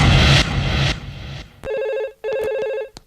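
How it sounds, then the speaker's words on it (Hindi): A telephone rings in a Hindi film scene, two loud electronic trilling bursts with a short gap between them, following a brief rush of other sound at the start. "किसका फोन हो सकता है?"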